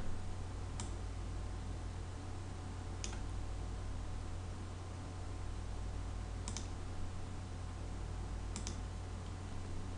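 A computer mouse clicks a few times, faint isolated taps spread across the stretch over a steady low hum of room noise, with no talking.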